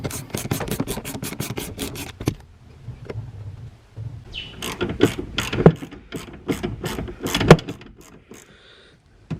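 A ratchet wrench fitted with a 14 millimeter socket works loose the sliders on Sparco Sprint racing seats, giving fast runs of sharp, close pawl clicks, a pause, then bursts of clicking mixed with scraping metal.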